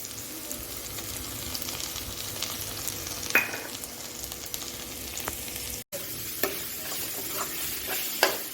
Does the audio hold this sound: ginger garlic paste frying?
yes